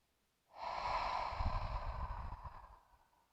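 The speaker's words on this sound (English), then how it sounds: "Big breath in. Hold it at the top. And exhale, let it go." One long, slow exhale through the nose during a relaxed yoga cooldown, close and soft, a steady airy rush lasting over two seconds before fading out, with no talking.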